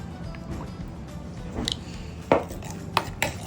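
Mayonnaise and hot sauce are stirred together in a bowl, giving soft, close scraping and clinking strokes, with a few sharper knocks of utensil against the bowl near the end.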